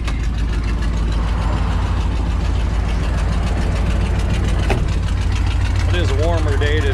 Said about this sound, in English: Kind of hear the exhaust. Now the car is running.